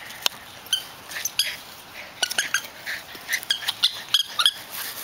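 A pet dog, likely Shadow, makes soft whimpers and small squeaks in short bursts, with scattered patters and rustles in between, close by and fairly quiet.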